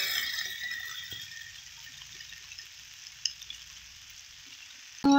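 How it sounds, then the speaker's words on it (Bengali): Pumpkin curry with chilli powder stir-fried in a pan, a steady soft sizzle with faint scraping stirs, ending in a brief louder clatter. "এইভাবে ভালো করে কষে নেব।"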